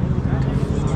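A superbike engine roars loud and close, a dense sustained rumble with wind buffeting, heard at a morning gathering of superbikes that includes a Yamaha R3, with a voice talking over it.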